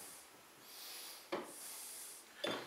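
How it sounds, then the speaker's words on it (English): A damp thumb is rubbed around the rim of a clay pot on a potter's wheel, making a soft, hissy, continuous rubbing with two brief sharper swishes, quiet and close. "I can just damp my fingers and just rub my thumb around like that"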